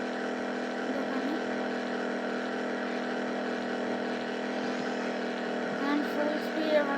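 An engine drones steadily while a car drives at full speed in a video game. The tone stays smooth and sustained for the whole clip, with a few faint bumps near the end and no talk.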